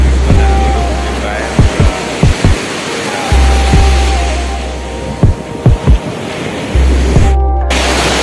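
Ocean waves roll in on a Kerala beach as a loud, continuous roar of surf, broken by several sharp thumps and rumbling low wind buffeting.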